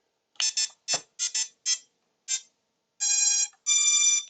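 A Vifly Finder lost-model buzzer beeps loudly and close by: a run of short chirps first, then two long sustained tones, with no other sound around them.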